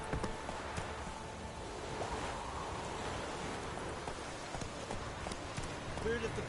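Horse hooves galloping in The Witcher 3 video game, a steady run of clip-clop beats under a constant bed of game ambience and music, moderately loud throughout.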